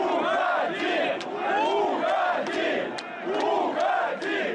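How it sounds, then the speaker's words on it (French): A large outdoor crowd chants a two-syllable jeer at the French president in loud, rhythmic waves, with booing and whistles rising between the repeated calls as the presidential helicopter leaves. "Va-t'en, scande une bonne partie de la foule."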